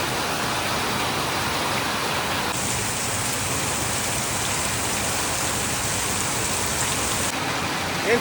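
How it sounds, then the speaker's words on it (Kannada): Heavy rain pours steadily over a village, a dense, continuous hiss of drops on surfaces that stays loud and even throughout, with no voices. "ಮಳೆ ಸಿಕ್ಕಾಪಟ್ಟೆ ಬರಕತ್ತದ್ರಿ"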